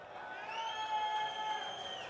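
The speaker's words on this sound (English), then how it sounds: "you can hear the Farrell crowd to our left, loving what they're seeing from their Lions" Monsignor Farrell's home crowd cheering their Lions at a high school football game against St. Anthony's, a steady, fairly distant roar with a sustained whistle-like tone running through it and no distinct talking.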